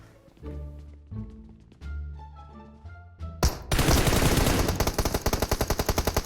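Gunfire in PUBG Mobile: after a few quiet bursts of game audio, a loud sustained automatic volley breaks out and continues as rapid rhythmic shots.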